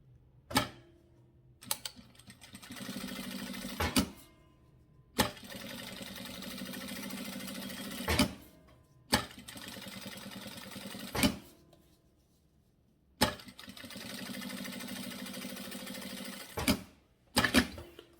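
A sewing machine runs a safety seam around the lining of a cable-organizer bag in bursts of steady mechanical whirring, each run a few seconds long and separated by short pauses and clicks, close and alone.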